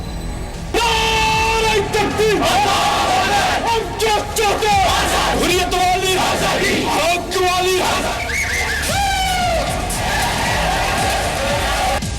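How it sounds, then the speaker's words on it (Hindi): A large crowd at a funeral procession in Kashmir shouts slogans in loud, rhythmic unison, voices rising and falling in repeated chant-like bursts that continue steadily throughout. "इस भीड़ ने क्यों लगाए देश विरोधी नारे?"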